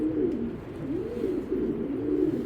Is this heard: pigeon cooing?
yes